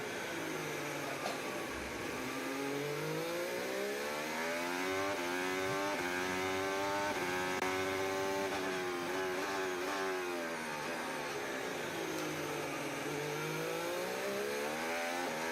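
Formula 1 cars racing at the Bahrain Grand Prix, with Antonelli chasing Verstappen: loud, continuous high-pitched engine whine with sweeping pitch rises and falls as cars accelerate and pass, filling the whole stretch with no talk.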